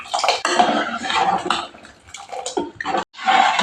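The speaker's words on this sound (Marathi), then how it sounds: "आणि परत ह्यामध्ये आपल्याला केवढं पाहिजे तेवढं पाणी घालायचं" Water poured from a vessel into pressure-cooked dal and bottle gourd for sambar, a steady broad splashing pour that runs for a few seconds, breaks off briefly, then resumes.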